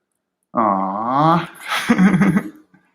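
A visiting pup named Lacey gives a close, strained whine that rises and falls, then breaks into a rougher, growly run of short vocal bursts before falling quiet.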